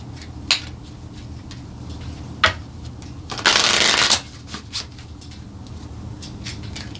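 Oracle or tarot cards are shuffled close by, with a few light flicks and taps, then a single dense riffling burst lasting under a second, followed by soft handling sounds against a faint background hum.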